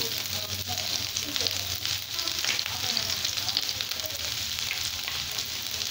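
Continuous crackling sizzle of chopped garlic frying in hot oil, close and steady, with occasional stirring.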